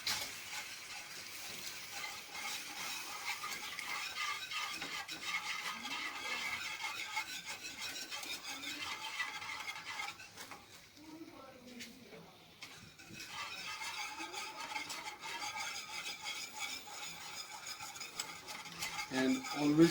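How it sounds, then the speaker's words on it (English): Steady spoon stirring in a pan as milk is worked into a French sauce over a low flame, a continuous scraping and rubbing that runs throughout, close and moderately loud, with no talk. "while we add the milk, we have to keep stirring, right?"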